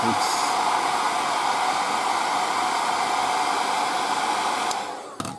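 A hair dryer blows steadily to dry acrylic paint on a 1:35 scale M3 Lee tank turret, a loud continuous whoosh that holds for about five seconds, then cuts off with a brief click at the end.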